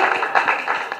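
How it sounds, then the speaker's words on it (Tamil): An audience gives a brief burst of dense, steady clapping at a Tamil stage event, close and continuous with no talk. "பெரிய கைத்தட்டல் கொடுங்க"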